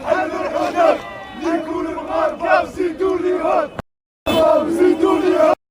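A large crowd of Algeria football fans in the streets of Lyon chanting slogans in rhythmic unison, loud and close, with a brief break before the chant resumes.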